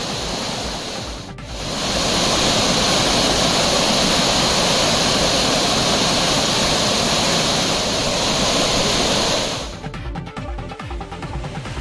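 A sudden flood surges over Courtallam's main waterfall in a loud, continuous roar of rushing water that swells after a short dip, then eases slightly near the end.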